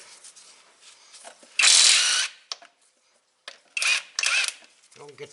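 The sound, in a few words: ratchet removing 16 mm transmission mount bolts on a 2001 Mustang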